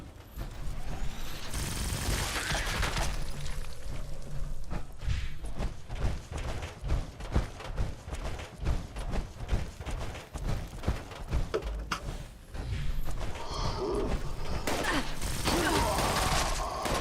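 Sustained gunfire in the post-apocalyptic shooter Fallout 76, rapid bursts and repeated shots rattling almost continuously, loud and close, with brief pauses and a denser volley toward the end.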